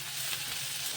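Mustard seeds, cumin, green chillies, curry leaves and turmeric sizzle in hot oil in a pan while being stirred, a close, steady, faint crackle with no talking.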